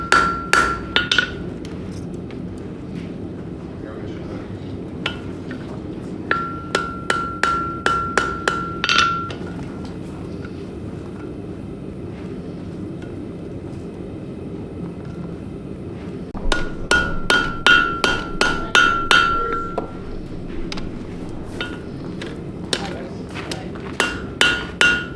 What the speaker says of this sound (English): I'm just tightening up the rivet before I continue